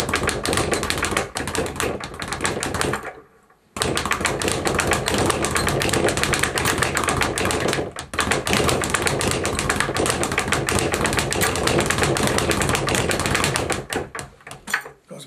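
Rapid, continuous rattle of a speed bag punched in triple-through rhythms, loud and close, running steadily apart from a brief pause near the start and a short dip midway.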